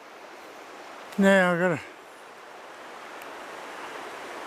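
Steady rushing of the Upper Mersey river runs as a continuous, even wash of water noise throughout, with a brief spoken phrase from a nearby man around the middle.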